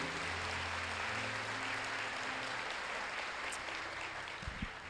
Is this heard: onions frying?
no